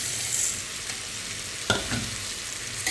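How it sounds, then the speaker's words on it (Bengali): Rice and lentils being fried and stirred in a pot for khichuri, a steady close sizzle with a few spoon scrapes and taps. "এটাকে ভালো করে একটু ভাজা করে নিতে হবে"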